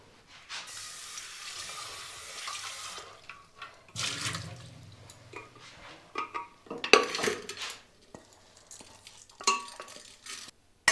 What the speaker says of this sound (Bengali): এখন এই প্রেশার কুকারে ডাল চাপিয়ে দেব